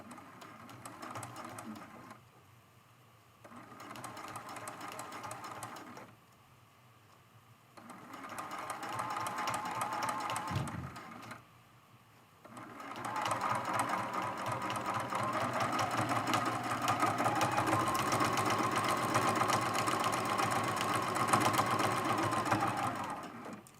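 Sewing machine stitching with a short stitch length around the curved edge of a quilted mug rug, running in steady humming bursts with short pauses, then a long continuous run, close and moderately loud.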